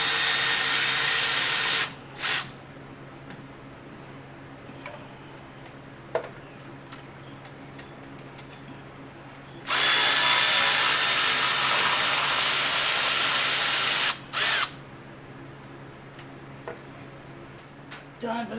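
A power drill removes valve cover bolts on an AMC Gremlin engine with a close, high whirring run, a few short bursts, then a sustained whine of several seconds and another brief spin.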